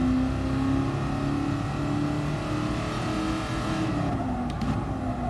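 A 1966 Shelby Cobra 427 engine in the GT Sport racing game drones loud and steady at a sustained rev, its pitch shifting slightly, with no talking over it.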